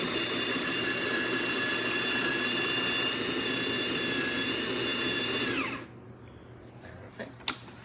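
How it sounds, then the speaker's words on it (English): A DeLonghi coffee grinder on its third setting grinds coffee with a loud, steady, high-pitched motor whine for about six seconds before cutting off abruptly, followed by quiet and a couple of small clicks. "We're grinding on the third setting of the grinder, and we are using our test coffee."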